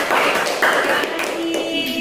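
A small group, likely in a classroom, claps briefly in uneven, close-up hand claps over a couple of seconds, with a few tonal tapping or ringing touches mixed in.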